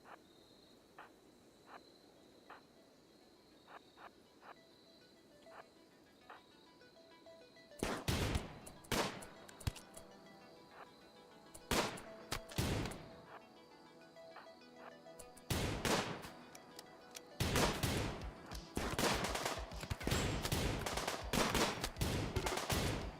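Gunshots ring out in a RimWorld battle, with bursts of rapid fire after a quiet stretch of steady cricket-like chirping. The shots are loud and come in clustered volleys, sometimes overlapping.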